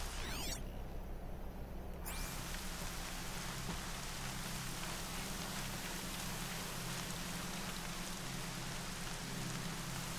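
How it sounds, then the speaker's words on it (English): Steady heavy rain in the video game Horizon Zero Dawn roars loudly and continuously with a dense hiss of drops, broken briefly near the start by a muffled gap. "Holy cow, rain is sideways."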